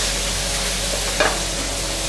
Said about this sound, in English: We've got our nice sizzle.